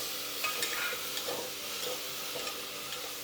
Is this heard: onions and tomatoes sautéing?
yes